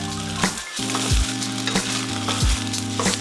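Garlic fried rice being stirred in a hot pan, a continuous sizzle with repeated scraping strokes of a utensil and a few low clanks against the pan, close up and without speech.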